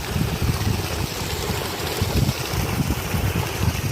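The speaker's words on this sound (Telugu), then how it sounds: "సైట్లో ఉనికి మోటార్లు బిగించాం. వాటర్ చాలా స్పీడ్గా ఫాస్ట్గా వస్తుంది" Water gushes fast from a Unika pump motor on a 50-acre farm, a steady, loud, continuous rush close by with no voices.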